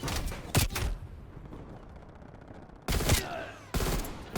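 Shots from an LW3 sniper rifle in a video game ring out in two loud, sharp bursts separated by a quieter stretch, with no voices over them.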